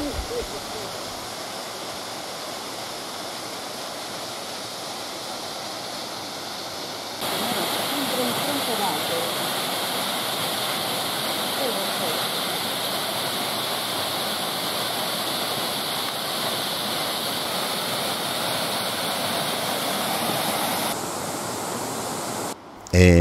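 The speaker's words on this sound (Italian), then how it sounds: "E quella che vedremo è la cascata di Urtone." Waterfall of Urtone near San Fele, a steady broadband rush of falling water heard continuously at moderate loudness, growing slightly fuller partway through, with no talk over it.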